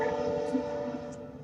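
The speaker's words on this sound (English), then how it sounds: "Sorry about the train." A train passing near a house in Dunkirk, a faint steady rumble with a sustained tonal horn-like drone throughout, distant and low in level.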